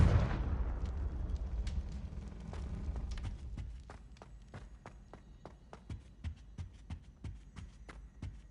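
Confringo blasting spell exploding in the Hogwarts Legacy video game, a sharp blast at the start that decays, followed by a steady series of quiet footsteps.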